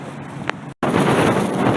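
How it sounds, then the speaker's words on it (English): Strong beach wind at Virginia Beach buffets the microphone in loud, rough rumbling gusts, broken by a brief silent gap before the roar resumes even stronger. "The wind is trying to take her hood away."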